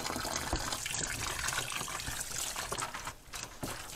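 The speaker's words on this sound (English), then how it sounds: "I'm going to transfer that well water that's still nice and cold" Cold well water pours from a tank into a trash can, a steady broadband splashing and gushing stream that runs continuously, close and fairly loud, with no talk over it.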